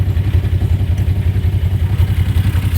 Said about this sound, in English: Make sure it's in neutral. I want to rev it up so you guys can see